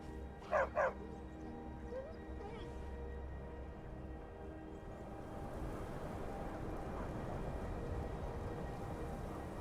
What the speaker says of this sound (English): Go back home, dog.